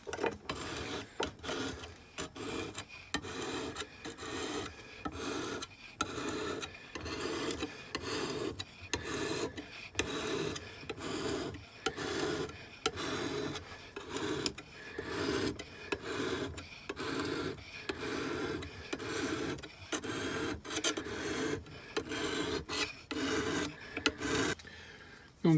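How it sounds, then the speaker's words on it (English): Ulu knife blade being sharpened on a coarse sharpening stone: steady, repeated rasping strokes in a continuous back-and-forth rhythm, close and fairly loud, with no talking. "I'm going to start off with a coarse sharpening stone."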